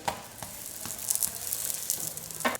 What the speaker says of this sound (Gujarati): ઘી આ રીતે ગરમ થઈ ગયું છે તો આપણે આ બંને શેકી લઈશું